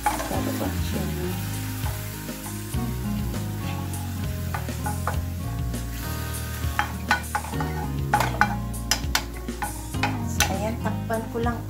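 Pork sizzles and fries in a pan for Filipino pork igado, a steady loud crackle close up with occasional stirring scrapes of a utensil.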